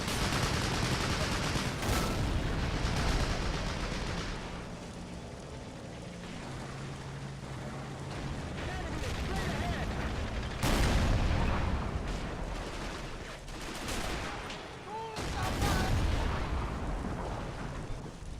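Battle noise from the video game Men of War: Assault Squad 2, with a 76mm gun and other gunfire going off as repeated booms and sharp cracks over a dense, rumbling backdrop.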